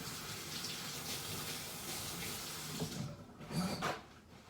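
Kitchen tap water runs steadily as mushrooms are rinsed underneath, a soft, continuous splashing hiss that shifts and spatters a little louder toward the end.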